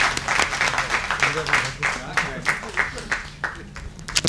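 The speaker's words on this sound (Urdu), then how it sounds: "تالیوں کے گونج میں ان کا استقبال کیجیے" An audience at a literary gathering and mushaira applauds to welcome a speaker, a dense wash of clapping with rhythmic pulses that keeps a steady level for a few seconds and then tapers slightly.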